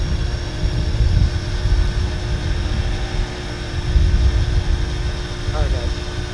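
A Parrot ANAFI foldable 4K drone in flight gives off a steady motor whine with faint tonal lines over a constant low rumble that lasts throughout.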